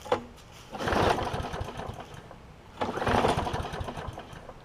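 John Deere JA60 walk-behind lawn mower engine, recently repaired for a stuck valve and low compression, chugging in two throttled surges that rise and fall about two seconds apart, close by, with no speech.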